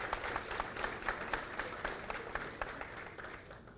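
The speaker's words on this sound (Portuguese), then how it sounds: "a quem eu peço uma salva de palmas." An audience at a political forum in Belo Horizonte gives a round of applause, a dense crowd of clapping with a pulsing rhythmic beat as many hands fall into step, fading near the end.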